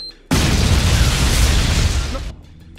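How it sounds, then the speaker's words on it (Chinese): A bomb explosion from the film Battle Royale erupts as a single loud, roaring blast that holds for about two seconds before cutting off abruptly. "龙太也被淹没在爆炸里"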